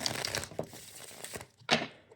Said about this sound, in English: oh, that shuffles so well, the La Flora Tarot